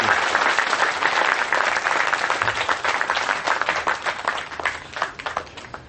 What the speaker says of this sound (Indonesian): Tepuk tangan semua teman-teman sekalian untuk cinta kita bersama.